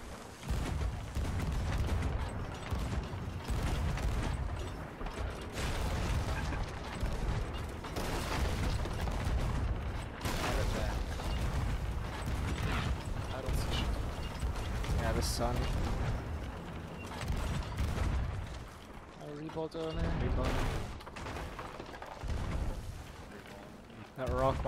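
Ship cannons fire repeatedly in League of Thieves, with a steady run of heavy booms and blasts across the whole stretch, plus creaking and clattering at sea, while players talk over it throughout.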